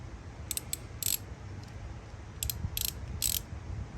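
A 3/8-inch ratchet wrench clicks in two short quiet bursts of rapid pawl ticks while loosening a bolt on a 2022 Chevy Silverado ZR2 during an intake install, under a faint low background rumble.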